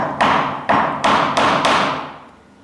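Five sharp mallet blows drive a chisel through wood to cut a housing joint for a pencil case, each a hard, close knock with a short ringing tail, spaced about a third of a second apart and then fading out.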